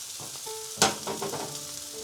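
Steak and onions fry in a pan with thyme and rosemary, giving a soft continuous sizzle with a brief sharper crackle partway through.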